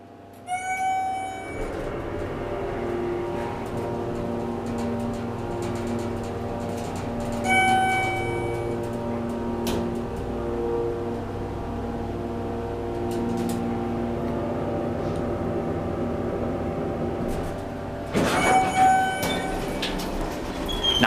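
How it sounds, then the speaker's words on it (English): Hydraulic motor of a 1996/98 Schindler MT 300A elevator running during a ride at a business centre in Exton, PA, giving a steady sustained hum with faint clicks and squeals. "Now that's a really nice motor."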